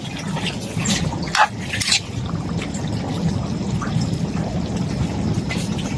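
Water pours steadily into a cooking pot of squash and crabs, a continuous splashing trickle lasting several seconds, close and fairly loud.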